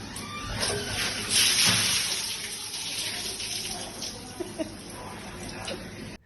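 A bucket of icy water tipped over a person's head at an indoor spa: a loud gushing splash early on, then water draining and trickling away, with faint background noise.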